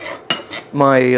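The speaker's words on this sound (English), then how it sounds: "let me use the white ceramic spatula to stir up" A white ceramic spatula scraping and clinking against a pan while stirring onions in butter, a sharp tap followed by brief scraping, then a sustained ringing tone from the pan; a word is spoken briefly.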